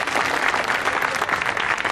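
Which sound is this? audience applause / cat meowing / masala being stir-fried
audience applause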